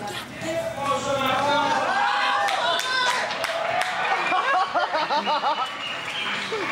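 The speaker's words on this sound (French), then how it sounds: "On applaudit Marie Trust." A television comedy audience from 2000 breaks into applause with chuckles and chatter for Marie Trust, the claps building in the second half under overlapping voices.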